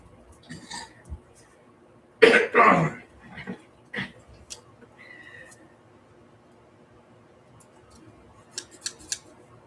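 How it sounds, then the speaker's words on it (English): Fabric scissors snip through fabric in a couple of loud, close crunching cuts, followed by a few quieter clips and light handling sounds in a quiet room. "So much better when you use fabric scissors on fabric"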